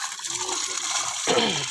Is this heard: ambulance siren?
no